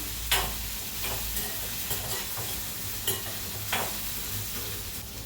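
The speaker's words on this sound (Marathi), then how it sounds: "आता भेंडीला मध्ये मध्ये असं हलवत राहायचं." Okra frying in a pan and stirred every so often, a steady close sizzle broken by a few sharp scraping strokes spaced a second or so apart, with no talking.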